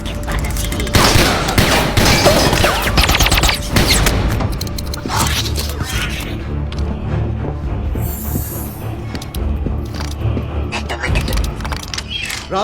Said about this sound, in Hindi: डेक में गोली चली है, डेक में गोली चली है।